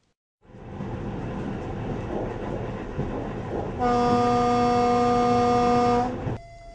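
First train arriving at a newly renovated village railway station in Mokvyn, Ukraine: a loud close rumble of rolling wagons, then a long sustained horn blast before it cuts off.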